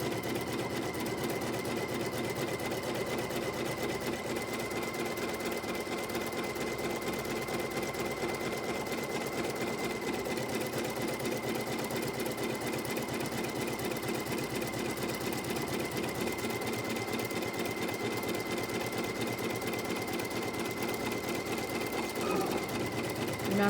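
Sewing machine stitching a quilt appliqué with batting, a continuous rapid mechanical whir and needle chatter held at an even level throughout.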